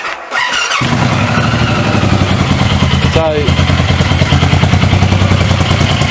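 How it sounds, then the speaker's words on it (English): A Suzuki Boulevard M109R motorcycle engine cranks and catches, then settles into a steady, loud idle close by, with a brief squeal partway through. "just start it up"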